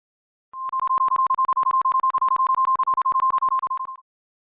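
EAS attention signal as broadcast on NOAA weather radio: a single steady high-pitched tone pulsing in a rapid, even on-off pattern for about three and a half seconds, loud and alone with no voices.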